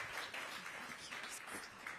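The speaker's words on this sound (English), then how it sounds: "a round of applause for our panel" An audience at an AI business panel event in Los Angeles applauds, a faint, steady wash of clapping heard from a distance.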